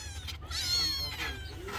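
A cat meows close by, a couple of drawn-out, wavering cries against a low background hum.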